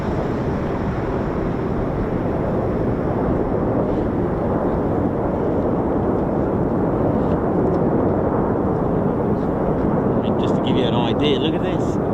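Two F-35 fighter jets fly very high overhead near an air force base, making a steady, broad, distant roar that fills the whole stretch, with faint voices underneath.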